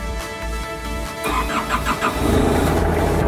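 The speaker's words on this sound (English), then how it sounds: "Let me try to start the forklift." A Maximal 4x4 rough-terrain forklift engine cranks and catches, then settles into a loud, steady diesel idle close by, with no talking.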